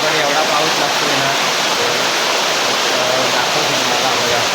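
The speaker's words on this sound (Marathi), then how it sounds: "गावाकडे एवढा पाऊस लागतोय ना" A heavy monsoon downpour in the Konkan countryside roars as a dense, unbroken wash, blended with the rush of a river in flood, loud and steady throughout.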